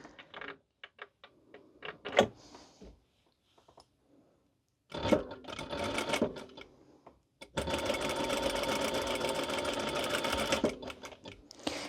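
Sewing machine topstitching a fabric cat bandana: short bursts of rapid mechanical stitching with handling pauses, ending in a long continuous run of fast clattering needle strokes, close and clear.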